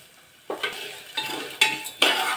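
Turmeric being sautéed with peanuts and dal in a pan: four distinct scraping stirs of a spoon against the metal, each with a short sizzle, at close range and without talk.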